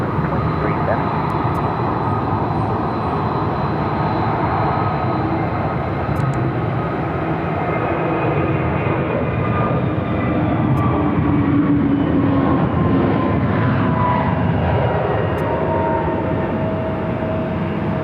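An American Airlines jet takes off at Phoenix Sky Harbor airport, a steady, loud, broadband engine roar that holds the whole way, with faint voices mixed in.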